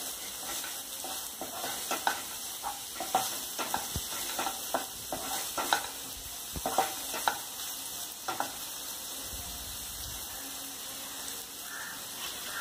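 Ingredients for Indian-style fried rice, including green chili, sautéed in a pan: a steady sizzle and frying hiss runs throughout, broken by repeated scraping stirs of a spatula, close and without speech.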